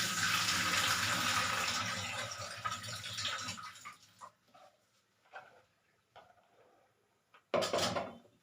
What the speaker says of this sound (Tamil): ஒரு அரை கிளாஸ் தண்ணி ஊற்றிக்கலாம்.